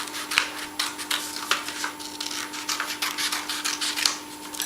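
Cutting out a crescent moon shape from a craft template, close crisp snipping and scraping strokes repeating in quick irregular bursts, with no talking.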